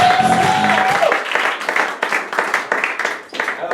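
Audience applause for improv comedy performers, starting under a brief voice and tone, then dense clapping in uneven bursts that swell and dip for a few seconds.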